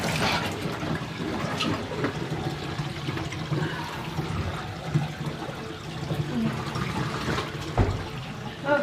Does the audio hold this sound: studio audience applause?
no